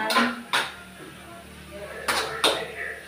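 A spoon stirring salted food in a cooking pot at home, with a few distinct scraping clatters against the pot in two short pairs, close and moderately loud, with quiet gaps between them.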